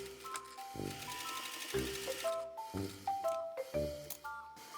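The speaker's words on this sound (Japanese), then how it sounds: "縫い代1センチのところで曲がってぐるっとミシンで縫って" Sewing machine stitching a seam on a fabric apron, short bursts of rapid mechanical whirring separated by pauses, close and moderately quiet.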